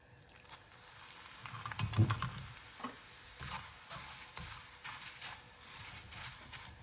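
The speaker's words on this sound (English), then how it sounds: "this is going to be fried in a few goes because it does puff up really quite a lot" Poha, flattened rice, frying in hot oil while being made into Bombay mix, a faint crackling sizzle with light irregular ticks and pops and a few louder bursts near the start.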